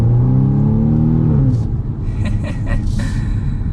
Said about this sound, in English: I'm just gonna give it a little bit of gas in the normal comfort mode.